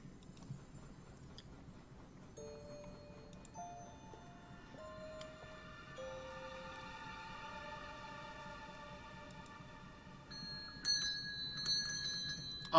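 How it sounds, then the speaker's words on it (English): A bell rings in a video game as a sequence of clear tones that step upward, then ends in a brighter cluster of chimes, with no talk. "Jinx, ring that bell!"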